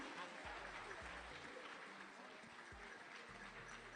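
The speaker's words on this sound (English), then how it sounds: "A round of applause to them." Broad, even applause fills a hall at a school quiz grand finale, a steady wash of many hands that holds at a constant level from start to finish.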